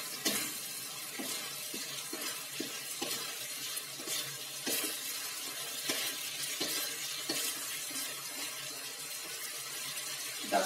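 Squid stirred in a pan with lemongrass, lime leaves and ginger for a spicy-sour dish, a steady soft sizzle broken by repeated scraping stirs at an irregular rhythm.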